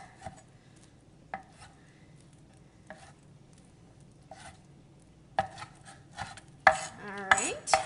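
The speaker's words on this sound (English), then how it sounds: "You wanna go ahead and just cut them in half. Just roughly chop them." A knife roughly chopping canned artichoke hearts on a cutting board, a handful of sparse, sharp chops at first, then quicker, louder cuts and board knocks toward the end.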